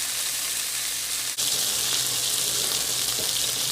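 Butternut squash gnudi fry in a hot pan, a loud, steady close-up sizzle throughout with one brief dip partway.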